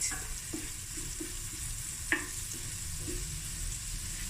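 Onions with salt and pepper sauté in a pan over medium heat, a soft continuous sizzle punctuated by a few light spoon scrapes and taps as they are stirred, close and alone.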